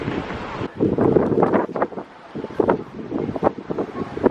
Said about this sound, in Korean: 바람이 많이 부네